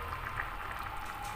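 Rice and yogurt soup with egg and flour simmers in a pot, giving a soft, steady bubbling and faint popping, brief and quiet with no talk.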